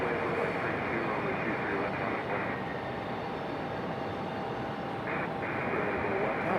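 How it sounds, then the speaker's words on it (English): American Airlines Boeing 737 jet at Raleigh-Durham International Airport, a steady broadband engine roar filling the whole stretch at constant loudness, with faint voices now and then. "Looks like another 737 for American Airlines."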